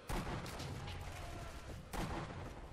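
Sniper rifle gunshots in Sniper Elite V2, Schöneberg Streets map: two loud, broadband blasts about two seconds apart, each followed by a sustained rumbling reverberant tail.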